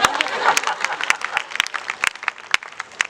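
An audience at a Hindi comic poetry gathering in a Jain temple claps loudly and steadily, sharp irregular hand claps mixed with a crowd murmur throughout.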